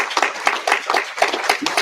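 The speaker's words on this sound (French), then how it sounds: "Je crois que nous devons vous applaudir" Audience applause at the close of an evening research talk on women authors and investigators: dense, steady clapping from a crowd, close and fairly loud throughout, with no voices over it.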